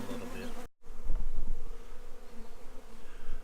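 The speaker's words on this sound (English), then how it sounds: "I still got lots of bees there." Honeybees from a freshly installed package swarm around a hive in a loud, dense, continuous buzz close by, briefly cut off near the start.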